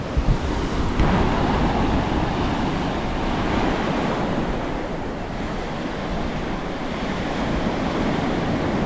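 Surf rolling steadily onto Estorella Beach, a Caribbean shore with some sargassum in the water, a continuous loud wash of breaking waves mixed with wind buffeting the microphone, no voices.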